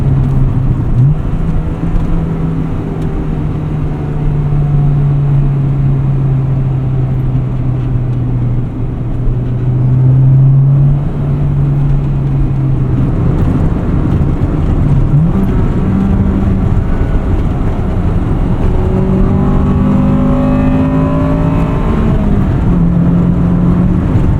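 A 1998 Acura Integra Type R engine drones steadily while driving, loud and close from inside the car, its pitch climbing through the revs with brief dips at gear changes.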